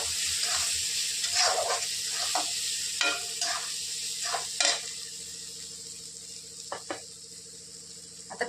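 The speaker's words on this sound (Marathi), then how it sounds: "हिंग छान परतून घेणार आहोत" Asafoetida frying in hot oil while cooking a ridge gourd and dried fish dish: continuous crackling sizzle with intermittent clinks and scrapes of a spoon against the pan, close by.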